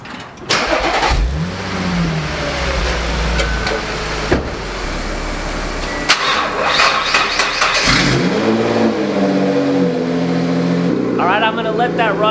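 An Audi SQ5 engine cranks and starts after a jump start, then revs and settles into a loud, close idle, with a voice speaking over it near the end.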